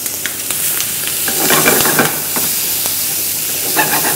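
Shallots, garlic, basil and tomatoes sauté in hot olive oil in a pan, a loud steady sizzle and hiss with scattered stirring scrapes, close and without talk.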